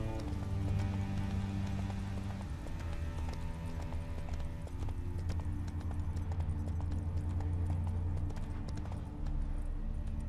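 Roach, a horse in The Witcher 3, gallops with a steady, rhythmic clip-clop of hooves that stays close and loud throughout, over a low ambient bed.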